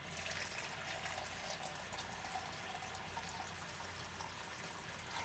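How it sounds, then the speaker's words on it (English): Water pours steadily onto potted plants in a continuous, even splashing stream with no breaks, fairly close and at a moderate level. "and just start watering it"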